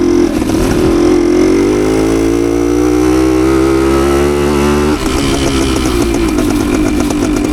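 A 52-year-old Suzuki TS185 motorcycle ridden on smooth trails in third gear gives a loud, close, steady engine drone that climbs gradually in pitch, then resets briefly near the end before pulling again.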